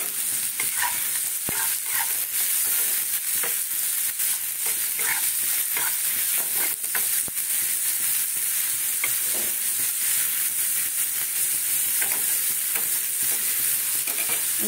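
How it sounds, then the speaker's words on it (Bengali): Ajwain seeds frying in hot oil, a loud, steady, close sizzle with fine crackling throughout and no voices. "যেহেতু ভাজা একটু জোয়ান দেবো।"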